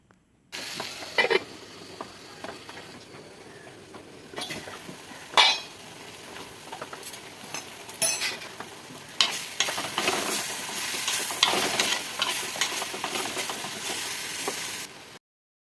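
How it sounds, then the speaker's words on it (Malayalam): Onions and tomatoes sizzle in a hot pan as a spoon stirs them, with a steady frying hiss broken by scraping and the odd clink of utensil on metal. The scraping grows busier toward the end, and no one speaks. "സവാള നന്നായിട്ട് വാടിയതിന് ശേഷം തക്കാളിയും കൂടി ഇട്ട് കൊടുത്തിട്ടുണ്ട് ഇനി അത് നന്നായിട്ടൊന്ന് ഇളക്കിക്കൊണ്ട്"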